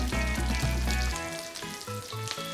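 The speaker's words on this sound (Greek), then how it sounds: "Βγάζουμε τα λαχανικά κατευθείαν μέσα στο τηγάνι με το βούτυρο." Vegetables, including green beans and peas, hit a hot frying pan with butter, producing a loud, continuous, close sizzle and hiss over a low tonal background hum on a cooking show.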